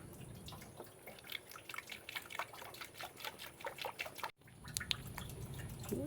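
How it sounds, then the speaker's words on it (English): Distilled water runs and drips while flushing a 2010 Jeep Wrangler JK cooling system, a close, steady patter of drips and trickling with a brief cut partway through. "A little flush with some distilled water."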